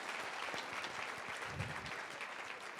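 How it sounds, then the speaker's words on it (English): Applause from an audience, a quiet steady wash of clapping heard from a distance, lasting a few seconds. "Let's give her a round of applause."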